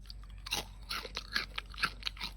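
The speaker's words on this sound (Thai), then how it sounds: "อ่ะมาเคี้ยวให้ดูนะ" Crunchy deep-fried wontons being bitten and chewed close up, a series of crisp, brittle crunches in an uneven rhythm against a quiet background.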